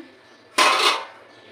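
A lid lifted off a cooking pot of simmering gravy, one short metallic clink and scrape that rings briefly and fades, close and clear against a quiet kitchen.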